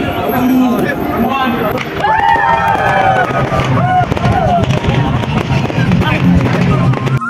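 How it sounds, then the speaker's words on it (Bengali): Fireworks bursting over the Doha Corniche in Qatar, with crackling pops and whistling rising tones over a busy crowd, close and loud throughout with people talking nearby. "এখন আতশবাজি ফোটানোর টাইম হয়ে গেছে।"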